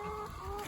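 A rooster clucking in a chicken enclosure, one short, quiet, throaty cluck.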